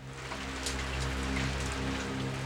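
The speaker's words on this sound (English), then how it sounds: "That rain was like standing under a tap." Heavy rain pours down in a dense, continuous hiss, loud and close, with scattered heavier splashes and no voices.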